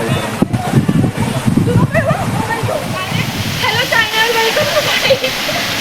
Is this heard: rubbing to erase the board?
no